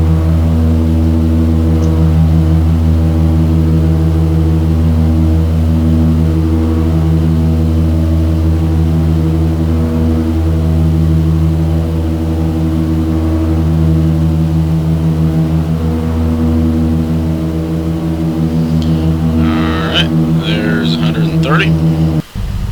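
Twin engines of an Aero Commander 500 drone steadily in a flight simulator game, a loud, even multi-toned hum sustained throughout, with a few brief clicks near the end.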